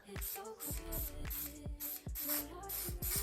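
Hair spray in black, red and middle holds, sprayed in short repeated bursts under the edge of a lace wig, a hiss recurring about every half second with small clicks of the nozzle, close and fairly quiet.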